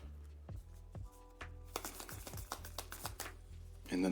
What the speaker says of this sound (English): Give that a good shuffle to the best of my ability.